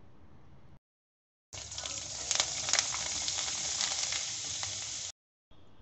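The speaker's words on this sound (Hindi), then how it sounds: "अब इस तेल में मैंने जो चावल ड्राई किए थे धूप में वो डाल दूँगी।" Sun-dried leftover boiled rice dropped into very hot oil bursts into a loud, steady sizzle and hiss that runs for several seconds with no talk, set between short silent gaps.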